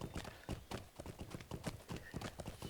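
Horse hooves clip-clop steadily in a video game set in Middle-earth, a quick regular gait of close, crisp hoofbeats with no talk over them.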